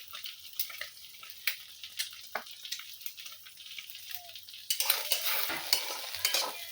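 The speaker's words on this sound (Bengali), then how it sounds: "ডিম ভাজা হয়ে গেছে" An egg fries in oil in a pan with a soft sizzle and light stirring clicks, fairly quiet at first and then hissing more steadily and loudly toward the end.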